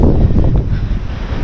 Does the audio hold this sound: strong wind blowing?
yes